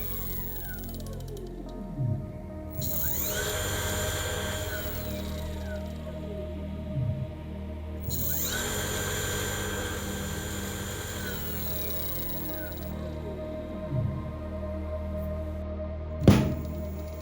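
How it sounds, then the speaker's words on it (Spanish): A car alternator rebuilt into a permanent-magnet motor spins up under potentiometer control, giving a steady tonal whine with pitch sweeps as speed shifts, a few soft thumps, and a sharp click near the end. "Cuando movemos el potenciómetro, el motor comienza a acelerar."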